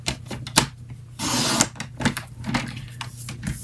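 Paper for a handmade card is trimmed to size with a paper cutter, making brief close scraping and tapping sounds with one longer slicing rasp in the middle, quiet and without talk.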